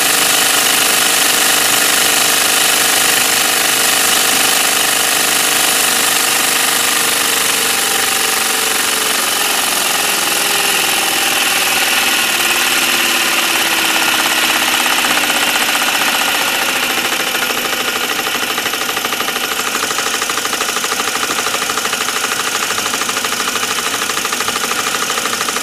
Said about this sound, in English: The compressor kicked back on